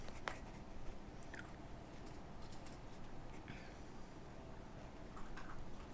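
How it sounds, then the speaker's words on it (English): A dog crunches dry food while eating, a steady run of soft, faint crackling bites in a quiet indoor room, with no talking over it. "if you hear a dog crunching in the background"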